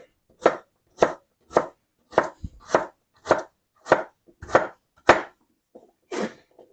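Knife chopping through vegetables on a cutting board, made while preparing a sausage, potato and crescent roll brunch casserole; about ten sharp, evenly spaced chops, close and clear, with no talking.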